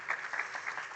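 An audience applauds an orchestra at a human-robot artistic collaboration workshop, a moderately faint, continuous patter of many hands clapping in a hall.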